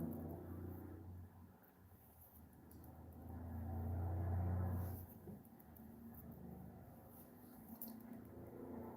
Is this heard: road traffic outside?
yes